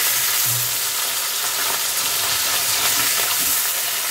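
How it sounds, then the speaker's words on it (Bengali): Pieces of hilsa fish frying lightly in oil in a pan, a loud, dense, continuous sizzle close by with faint stirring scrapes. "হালকা একদম এপিট এপিট করে ভেজে নিতে হবে"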